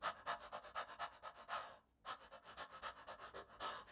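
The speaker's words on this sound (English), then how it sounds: "Panting like a puppy." A person pants rapidly like a puppy during a singing breath warm-up, quick rhythmic breaths in short bursts with a brief pause midway, close and fairly quiet.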